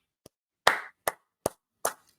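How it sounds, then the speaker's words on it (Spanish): Five sharp, separate hand claps ring out in a quiet space during a political broadcast, evenly spaced and each dying away quickly. "Aplausos para Kennedy."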